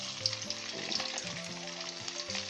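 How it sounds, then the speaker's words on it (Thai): Pork with garlic and pepper deep-fries in oil, a dense, bubbling sizzle with crackles and faint tonal hums in the background, steady and fairly close. "ทอดส่วนที่เหลือ ทอดให้หมดเลยครับ"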